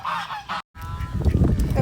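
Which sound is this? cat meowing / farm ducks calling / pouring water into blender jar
farm ducks calling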